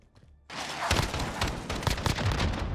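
Rapid gunfire from the Call of Duty video game, dense and continuous after a brief quiet start, with sharp overlapping shots and bursts filling the whole stretch at close range.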